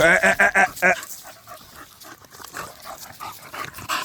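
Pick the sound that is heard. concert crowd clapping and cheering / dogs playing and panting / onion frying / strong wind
dogs playing and panting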